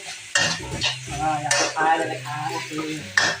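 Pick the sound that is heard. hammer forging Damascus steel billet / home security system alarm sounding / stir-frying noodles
stir-frying noodles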